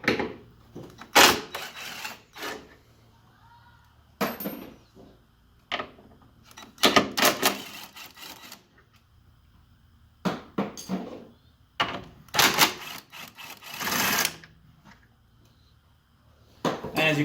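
A 14 mm tool works bolts loose on a 2018 Honda Civic Si suspension, giving sharp bursts of metallic ratcheting and clanking spaced out by quiet gaps, close and fairly loud.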